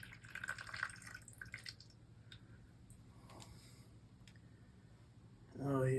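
Dirty water with sediment drains out of a home boiler during an overdue service, giving faint trickling and dripping with small clicks close by, then a louder gush at the end.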